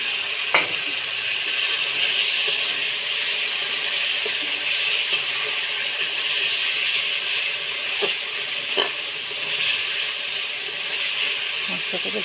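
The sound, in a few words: chopped onion frying in a pan for jackfruit biryani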